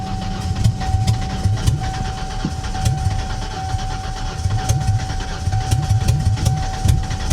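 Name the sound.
1991 Mercury Cougar engine cranking and starting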